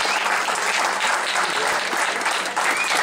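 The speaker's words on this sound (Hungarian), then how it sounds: "Egy nagy tapsot kérnek, hölgyeim és uraim." Wedding guests applaud together in a steady, dense burst of clapping close by, holding at an even level for about three seconds.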